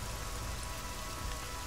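Rain falls steadily in the game Deus Ex: Mankind Divided, a dense, even hiss of drops with no break, fairly faint and heard without voices.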